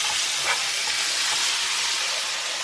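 Vegetables cook down in a pot with a loud, steady hiss of steam and sizzle, continuous and close, with no voices over it.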